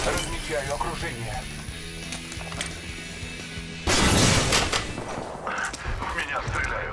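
Gunfire in Apex Legends, bursts of loud close-range shots and weapon clatter, rising into a dense barrage of rapid fire in the second half, with a game voice line heard early on.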